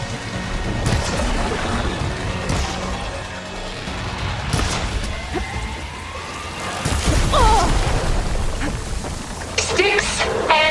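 A video game thunderstorm rumbles with rain and lightning cracks, sharp thunder bursts rising over a steady wash of falling rain, with music and effects layered in near the end.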